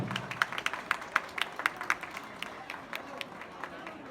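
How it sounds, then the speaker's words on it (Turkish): Wedding guests at a ceremony give scattered, fairly faint applause, a handful of separate claps spread unevenly across the moment with a light room murmur beneath. "Kocaman bir alkış istiyorum lütfen."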